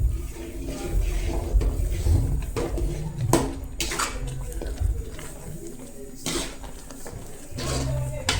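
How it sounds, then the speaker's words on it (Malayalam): Semolina is stirred into boiling water in a pan to make upma. A spoon scrapes and knocks against the metal in irregular bursts over a constant bubbling, watery rumble, close and moderately loud. "കട്ടി പിടിക്കാതിരിക്കാൻ വേണ്ടി നമ്മൾ അടിക്കടി കിണ്ടി കൊടുക്കണം."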